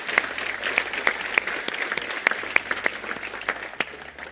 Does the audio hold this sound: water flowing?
no